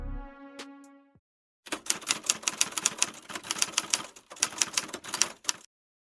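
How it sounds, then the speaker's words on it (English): An 8mm film projector clatters with heavy metallic clicking in a darkened room. A brief low hum comes first, then a steady rapid run of clicks for about four seconds, broken by one short pause, with no voices. "the heavy metallic clicking of an 8mm film projector cutting through the absolute silence"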